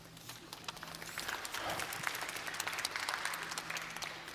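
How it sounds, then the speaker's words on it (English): An audience at a global tourism resilience forum breaks into sustained applause, a dense patter of many hands clapping that swells and holds steady across the room. "Applause."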